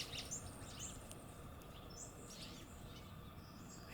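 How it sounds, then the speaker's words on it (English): Scattered bird chirps and short calls ring out in a quiet outdoor setting, fairly faint, over a soft background hiss. "I think you can hear the birds with me."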